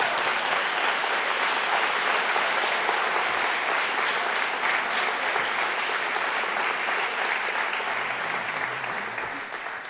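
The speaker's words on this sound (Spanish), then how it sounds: "Dale un fuerte aplauso a Jesús entonces." A church congregation applauds for Jesus during a Sunday sermon, a dense, steady wash of many hands clapping that holds loud for about ten seconds, then eases slightly toward the end.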